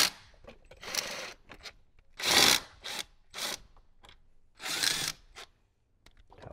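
A power tool backing out 10 mm bolts from an interior panel on a 2018–2023 Jeep Wrangler JL: several short, close whirring bursts mixed with ratcheting clicks and small handling knocks.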